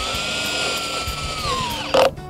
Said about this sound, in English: Drill the top left in first, then the bottom.